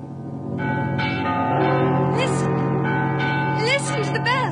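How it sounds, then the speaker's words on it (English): Church bells ring in a radio drama, several tones overlapping in a sustained, resonant peal that swells after a quiet start. Voices and dramatic vocal sounds break in over the ringing near the end. "Listen to the bells."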